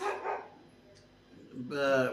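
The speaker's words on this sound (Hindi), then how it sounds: "यार कुत्ते को भी अभी भौंकना है" A dog barks close by, with one short bark at the start and a louder, more drawn-out bark at the end, separated by a brief quiet gap.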